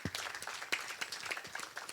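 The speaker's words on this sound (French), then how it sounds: "Vous pouvez les applaudir, s'il vous plaît," Applause from an audience at a French conference on company and local-authority good practice, heard as a quiet, steady patter of many hands with a few sharper claps, moderately distant, without talk.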